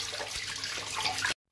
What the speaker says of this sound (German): Bei jeder Vorbereitung immer gut die Hände waschen.